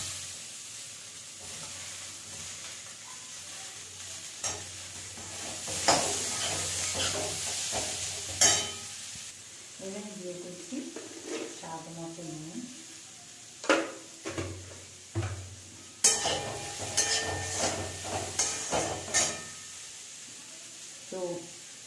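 Potatoes with chili powder frying in a pan while being stirred, giving a steady sizzle broken by scraping strokes and clatter, with a person talking in between.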